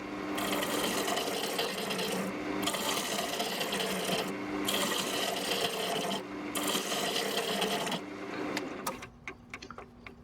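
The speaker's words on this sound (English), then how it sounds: "Just getting it back to true now. Using my roughing gouge." A roughing gouge cuts a spinning locust wood blank on a lathe, a loud, continuous rasping scrape with a steady hum that dips briefly at intervals and then fades into a few light taps at the end.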